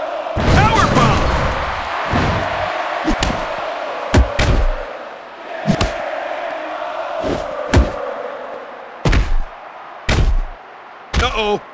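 Heavy body slams and thuds from a wrestling match in a WWE video game, including a power bomb, hitting repeatedly over a steady crowd roar while a commentator talks throughout.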